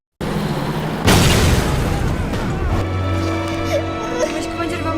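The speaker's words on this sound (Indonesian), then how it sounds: "mereka menemukan ladang ranjau yang meledakkan beberapa kendaraan mereka" A landmine explodes in a war film and destroys vehicles: a sudden heavy boom about a second in, then a long rumbling crash and debris noise, with voices talking through it.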